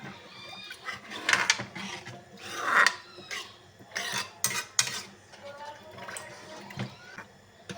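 Kadhi batter of yogurt, gram flour and water being stirred in a pot, with repeated sloshing, rasping strokes and splashes, fairly close and moderate in level.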